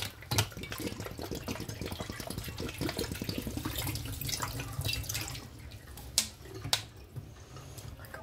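A tap runs steadily, water splashing and filling a sink close by, with a few sharp clinks near the end.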